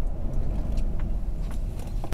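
Car engine stuttering and hesitating while driving, from a misfire linked to spark plugs or an ignition coil, heard from inside as a steady low rumble with slight uneven surges and no talking.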